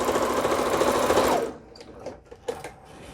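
A sewing machine runs in a loud, fast, close stitching whir for about a second and a half, then stops, leaving quieter handling clicks and light taps.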